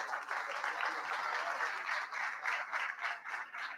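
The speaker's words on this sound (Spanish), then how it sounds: "Fuerte aplauso para ella" Applause at a National Theatre Day ceremony as an award recipient goes on stage, a continuous, even crowd clapping heard from some distance, fairly faint, with no one speaking over it.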